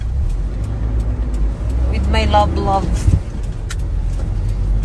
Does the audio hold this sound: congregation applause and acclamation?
no